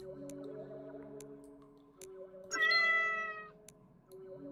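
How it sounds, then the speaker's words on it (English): A single meow sound effect plays in an old-style cosmic horror dungeon crawler video game, bright and sharp against steady droning game music and faint dripping ticks. "Also, the cat sound effect played again."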